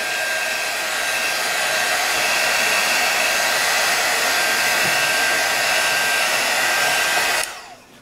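A hair dryer blows steadily on a craft piece, a loud, close, continuous whooshing roar that holds for several seconds before cutting off at the end.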